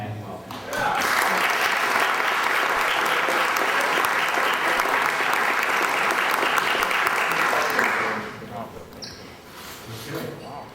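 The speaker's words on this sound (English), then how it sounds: "So let's give George a warm tag welcome" Audience applause at an evening tech event welcoming a speaker, a dense sustained clapping from a crowd lasting several seconds before fading into scattered claps and room noise.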